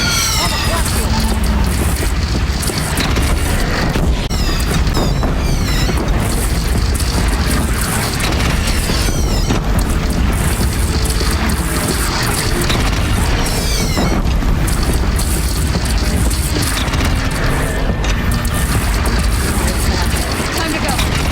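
Cannon fire in the Horizon Zero Dawn video game during a battle, repeated heavy booms within dense continuous combat noise, loud throughout.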